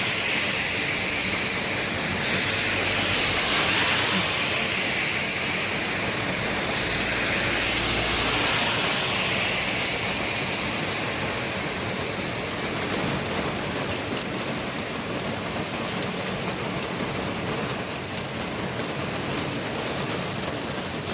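Heavy rain pours steadily during a thunderstorm, a dense, loud hiss that continues without break, with a slight swell in intensity early on.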